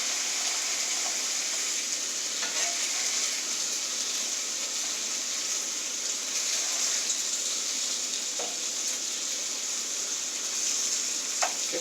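Bacon strips pressed close together in a pan fry with a constant loud, hissing sizzle, near and even, broken only by a few faint pops and clicks, with no talking.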